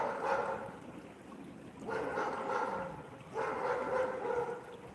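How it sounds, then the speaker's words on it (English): A dog at a roadside fishing spot lets out three drawn-out, whining barks spaced about a second and a half apart, moderately distant, with no talk over them. "That dog isn't happy."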